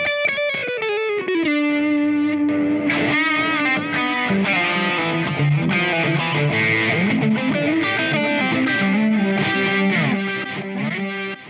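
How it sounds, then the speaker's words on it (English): A Flamma E1000 guitar played through its amp-sim distortion with the cabinet simulation switched off: a few clean-toned opening notes, then a loud, sustained distorted riff of chords and bends that rings on alone. "we've got the cabinet switched off, so we're using it as a distortion basically going into there"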